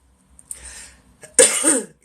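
Two coughs close to the microphone, a softer one followed by a louder, harsher cough, in otherwise quiet surroundings.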